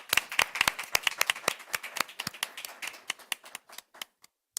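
Scattered applause from a small audience at a Board of Education meeting, a handful of people clapping in sharp, uneven claps that thin out and stop.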